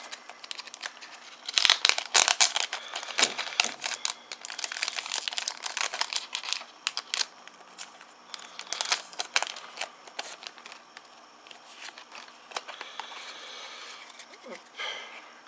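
Plastic wrappers crinkle and tear as a Pokémon card display box of XY3 Rising Fist booster packs is opened, a steady close crackling with busier bursts throughout.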